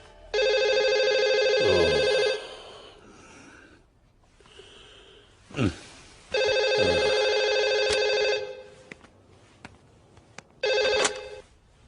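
A telephone rings in a Hindi comedy film scene, with three loud electronic bursts of ringing separated by pauses, plus some breathing and small noises in between.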